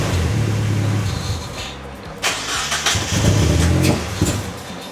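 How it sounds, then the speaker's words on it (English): A Mazda Miata engine runs loud and close after months off the road, with its intake removed, then revs in short bursts as the throttle is blipped, its rough idle rising and falling between pulls. "I was giving it gas."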